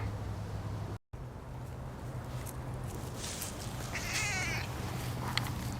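A house cat meows a couple of times at close range in a quiet room, short vocal calls standing out over a steady low background hum, with no talking.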